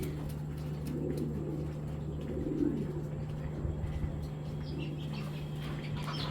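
Pigeons coo softly in low repeated calls against a steady electrical hum and faint background noise.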